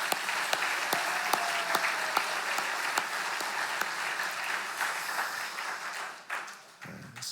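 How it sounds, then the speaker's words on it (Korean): Applause from a Korean church congregation at an early-morning revival service fills the room in a steady, even wash of many hands, moderately loud and sustained, with a few sharper individual claps standing out. "격려의 박수 보내겠습니다."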